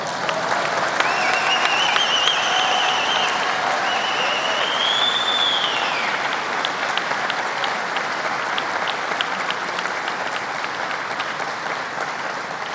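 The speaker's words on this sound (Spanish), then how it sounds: "Otro aplauso." Sustained audience applause, dense steady clapping from a crowd at an event, with a few whistles rising early on and no talk over it.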